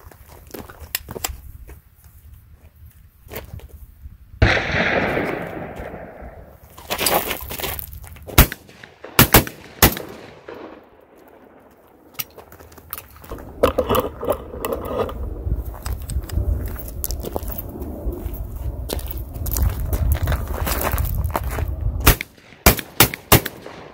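A Panzer AR12 shotgun fires at clay targets outdoors: several loud, sharp blasts spaced seconds apart, some trailing off in a long echo, with rustling and movement in between.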